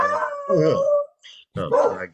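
A dog howls and barks loudly up close, with a drawn-out wavering howl, a short pause, then a further burst of barking yowls.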